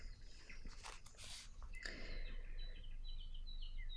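Birds chirp and call outdoors in short repeated high tweets, fairly faint against a quiet background, with some rustling or footstep-like noise early on.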